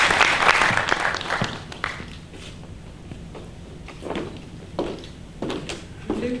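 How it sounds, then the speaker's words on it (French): Audience applause at a Christian literature fair in Kinshasa, a burst of clapping that fades after about two seconds into scattered handling knocks and thuds of movement in the room. "Madame Rina, s'il vous plaît, sous vos acclamations"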